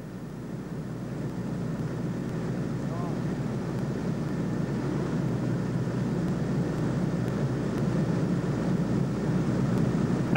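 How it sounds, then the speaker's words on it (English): A continuous, loud engine drone from a loaded 300 HP PL12 agricultural plane in a stall, swelling slightly over time, steady and unbroken throughout. "A loaded plane in a stall."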